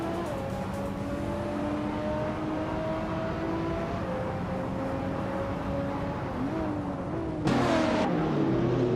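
Racing car engines drone steadily in a video game race that includes a 2015 Mercedes-Benz A45 AMG, with sustained engine tones shifting pitch as cars accelerate and a louder surge near the end.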